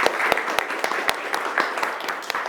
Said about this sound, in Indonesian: Untuk semua kita berikan aplaus kepada mereka.